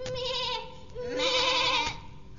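A goat bleats loudly twice, each call a quavering, nasal wavering cry, the second longer and stronger, with no talking.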